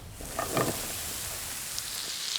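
Sliced chestnut mushrooms sizzle in hot olive oil, a steady hissing crackle close by, with a few soft clinks of a utensil against the pan.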